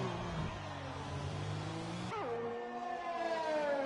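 A Formula-style racing car in a sim racing league event at the Chinese Grand Prix circuit, its engine whining steadily, then dropping sharply in pitch as it brakes into a hairpin and climbing again under acceleration, loud and close.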